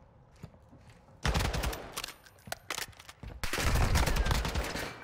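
Automatic gunfire in the Modern Warfare 2 video game shooting through a wall comes in two loud, sustained bursts with shorter shots between them, close and harsh, after a quiet opening second.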